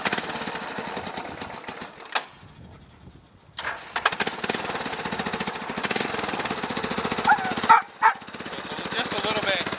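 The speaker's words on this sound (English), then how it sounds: "I'm going to do a little start here, and you'll hear how much quieter it is." A two-seater go-kart with an ATV engine is started and runs, a rapid rattling chug with a short pause, then a restart and steady idle with revving bursts, loud and close, with speech over it.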